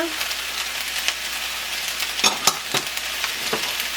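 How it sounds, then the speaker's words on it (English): Cabbage and scallions stir-fry with udon noodles in a hot pan, giving a steady sizzle with a few sharp tossing and scraping knocks, close and moderately loud, with no speech. "So now I'm gonna add in the cabbage. Gonna add in the scallions."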